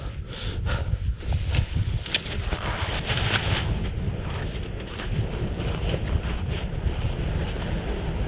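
Strong wind blasts across a microphone on a snowy winter mountain during a February summit attempt on Quandary Peak, a loud continuous roar with gusty buffeting bursts throughout.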